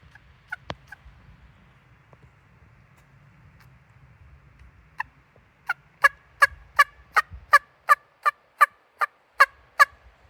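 A trillium leaf blown as a turkey call gives a few scattered clicks, then a rhythmic run of about a dozen loud, sharp, evenly spaced yelps imitating a turkey, close and alone.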